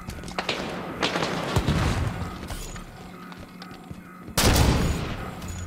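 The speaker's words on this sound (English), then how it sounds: "Under fire from the catwalk." Enemy gunfire from a catwalk in Halo 5 Guardians: bursts of rapid shots and thuds, with a quieter stretch before a loud, close volley near the end.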